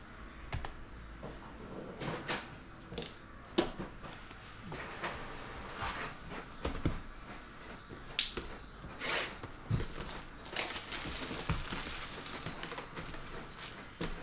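Foil packs from a 2022 Topps Chrome Update hobby box are ripped open up close, giving a run of sharp crinkly tears and rustling handling noises with no talking.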